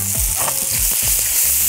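Sausage sizzles loudly in a frying pan for a spicy cabbage dish, a steady hiss of frying fat with soft scraping and stirring clatter close by.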